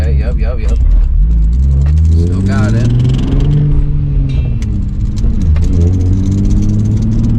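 A Nissan 350Z with a manual gearbox revs as a learner driver pulls off. The mid-pitched engine note rises and falls under near-constant talking from people in the car.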